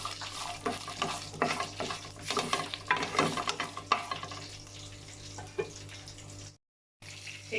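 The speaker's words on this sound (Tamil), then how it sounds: "இது ஒரு நிமிஷம் வணக்கிக்கலாங்க, ஏன்னா பூண்டு கொஞ்சம் வணங்க டைம் எடுக்கும்." Garlic frying in a pan for Tamil paruppu thuvaiyal, a soft crackling sizzle broken by stirring scrapes and clatter, fairly faint, cutting out briefly near the end.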